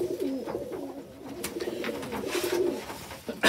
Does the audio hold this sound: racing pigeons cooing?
yes